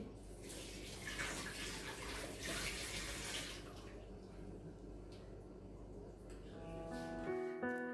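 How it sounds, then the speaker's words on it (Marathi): Water flows steadily from a household tap after a fitting change, a faint continuous rush with slight splashing that eases and fades toward the end. "नळा नळावर चेंज झालंय पाण्याचं प्रेशर लगेच छान असं मस्त पाणी यायला लागलं"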